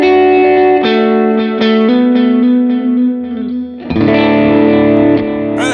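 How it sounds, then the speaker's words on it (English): An electric guitar plays through a dotted eighth delay on a Line 6 Helix, so each sustained, slightly driven note is followed by rhythmic repeats and a lingering wash. A brighter strummed chord comes in near the end, with no one speaking. "That sounds pretty good for the dotted eighth delay."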